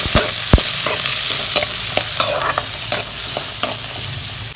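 Chopped onions are sautéed and stirred in a pan for an anchovy dry fish thokku, a loud close sizzle broken by repeated scraping and tapping of a spoon against the pan, no voices.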